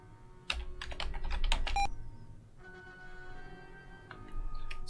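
Rapid clattering keystrokes on a computer keyboard typing a command in the 1989 game Star Trek: First Contact, close and crisp, in quick bursts with a short pause before a second run.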